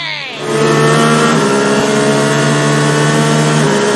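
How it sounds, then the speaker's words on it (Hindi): A cartoon car starts up and drives off, its engine rising quickly to a loud, steady tonal drone that holds close and level. "अरे ये गाड़ी तो हवाई जहाज से भी अच्छी है। इसे चलाकर तो मजा ही आ गया।"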